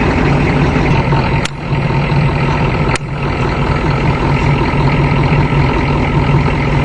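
A 6.9L diesel motorhome engine idles after a cold start in snow, giving a loud, steady, close-up rumble broken by two brief sharp clicks.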